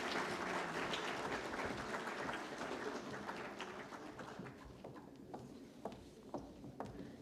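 A conference audience at a technical textiles event applauds, dense clapping that gradually thins out into a few scattered, distinct claps at the end.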